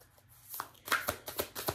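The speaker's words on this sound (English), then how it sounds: "okay, you've shuffled enough" A deck of tarot cards is shuffled by hand, close and fairly quiet, with a series of crisp riffling bursts coming in quick irregular succession.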